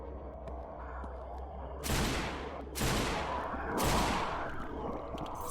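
Three loud, booming video-game shotgun blasts, spaced about a second apart, each with a long decaying tail over a steady low background.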